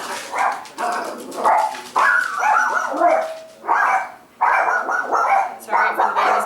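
Several dogs barking and yipping in the background of a home kitchen, with short irregular bursts close by under a person talking.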